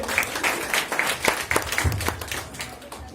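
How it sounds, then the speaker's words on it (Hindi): An audience at a foundation program event claps for a guest speaker, a brief burst of scattered, fairly faint applause in a hall, trailing off after about three seconds. "जोरदार तालियां हम सर के लिए।"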